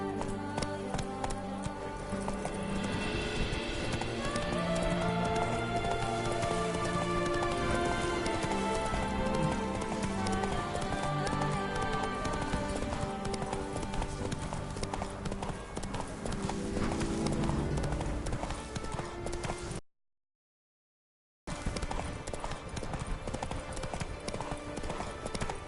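Horse hooves clip-clop steadily in a PS4 video game, a continuous galloping rhythm mixed with music-like tones, loud and close, with a brief silent gap near the end.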